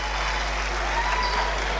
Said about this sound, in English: gets a warm applause from the crowd.